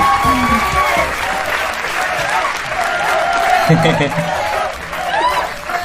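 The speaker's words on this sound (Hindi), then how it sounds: "आपकी भरपूर तालियों में" A studio audience applauds as a guest is introduced on a talk show, loud continuous clapping mixed with some chuckling and chatter, with voices heard through it.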